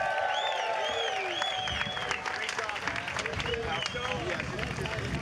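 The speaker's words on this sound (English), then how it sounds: "huge round of applause for the Ramsey brothers" Crowd applause at the outdoor opening ceremony of a para surfing world championship, a broad wash of clapping and cheering mixed with whistles and crowd babble, steady and fairly loud throughout.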